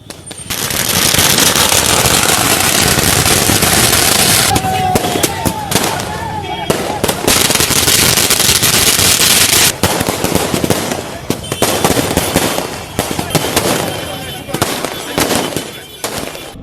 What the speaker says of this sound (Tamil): கரூர் பேருந்து நிலையம் முன்பு திமுகவினர் பட்டாசு வெடித்து கொண்டாடினர்